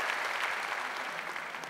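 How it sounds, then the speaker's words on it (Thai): An audience on a Thai television talent show claps steadily for a village headman, a dense, continuous wash of applause held at an even level throughout. "พวกเราครับปรบมือให้กับผู้ใหญ่นะครับ"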